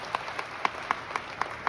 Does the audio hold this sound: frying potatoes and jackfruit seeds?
no